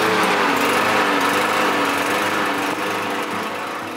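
A gas lawn mower engine runs loud and steady close by, a constant buzzing drone with no break for the full four seconds.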